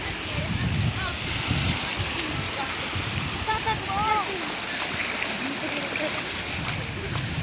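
River water rushes loudly past a suspension bridge, a dense steady roar close by with low turbulent churning, while voices talk briefly over it.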